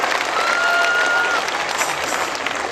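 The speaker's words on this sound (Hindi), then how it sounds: "जोरदार तालियां परमेश्वर के लिए" Audience applause fills the hall at a live comedy appearance in Dumka, Jharkhand, a steady, dense wash of clapping holding at even loudness for a few seconds with no one speaking.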